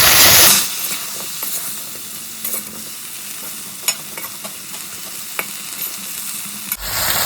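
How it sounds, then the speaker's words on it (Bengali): Okra and dry fish fry in a pan with salt and turmeric, a loud steady sizzle close by, with occasional light stirring clicks and no talk. "নুন আর হলুদ দিয়ে আমি ভালো করে এটাকে ফ্রাই করে নেব।"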